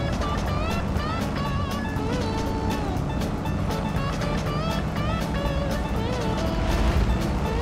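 A Hummer H2 truck engine in the off-road video game SnowRunner, droning steadily throughout with a continuous mid-pitched motor whine and faint tonal overtones, loud and close with no pauses.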